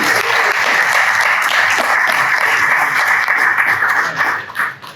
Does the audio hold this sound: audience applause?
yes